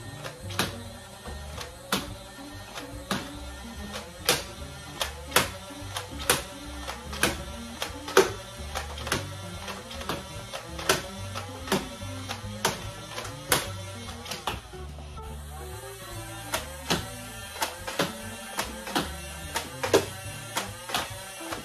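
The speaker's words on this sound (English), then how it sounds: "I will be shooting at the small Nerf target that is right up there." Buzzbee Rogue toy blaster fired repeatedly at a small Nerf target, about two dozen sharp clicking shots in a steady rapid rhythm with a short pause midway, close and fairly loud, no talking.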